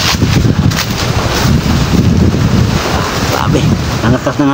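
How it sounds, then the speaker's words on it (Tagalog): Strong wind roars and buffets the microphone continuously, a loud, rough rush that never lets up, with a faint voice briefly underneath. "ang lakas-lakas talaga ng hangin guys."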